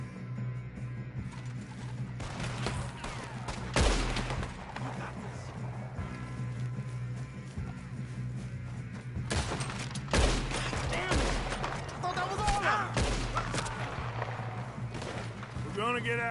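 Gunfire in the western video game Red Dead Redemption, with several sharp shots and bursts spread across a steady game soundscape, while voices talk and shout over the action.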